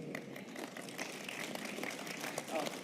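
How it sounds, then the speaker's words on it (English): Crowd clapping at a BlizzCon 2017 panel session, a continuous dense wash of many hands at moderate level, with a voice talking faintly underneath. "Clapping for myself now. I'm just clapping for everyone now."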